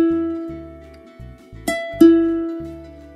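A plucked ukulele second string rings as notes are picked and tuned, with a sustained pure tone underneath and a few sharp plucks standing out in quiet.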